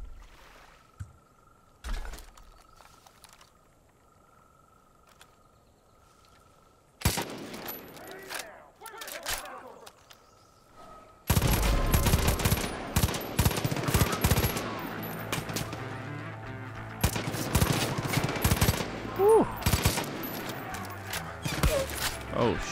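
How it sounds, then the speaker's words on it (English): Bursts of rapid gunfire in Far Cry 5 erupt loud and dense in the second half, aimed at a shrine in free-roam play, following a quieter stretch with sparse sounds and a voice talking. "I'm just gonna shoot the shrine from here"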